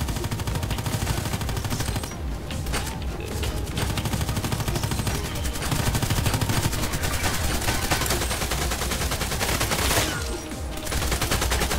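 Gunfire in the video game Contract Wars: dense, continuous rapid-fire shooting that sounds like automatic weapons, loud and sustained throughout with brief dips, without voices.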